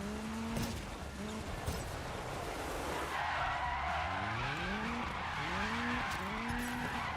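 Tyres screech and skid repeatedly in a driving video game as a car slides sideways, with rising and falling engine revs and squeals throughout, loud and continuous with no talking.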